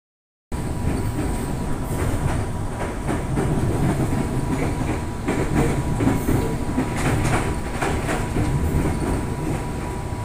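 An electric commuter train runs through Kampung Bandan station in Jakarta, with steady rumbling, rhythmic clickety-clack of wheels on rail joints and occasional squeals, close and continuous.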